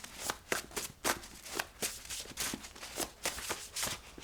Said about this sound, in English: these cards going to slip and slide while I'm doing this